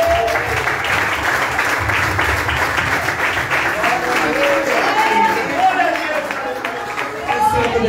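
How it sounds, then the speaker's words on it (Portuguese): A church congregation claps together during a worship service at a newly opened church, steady sustained applause filling the room, loud and close, mixed with voices and a singer's tones carrying over it. "E as palmas para o Senhor Jesus"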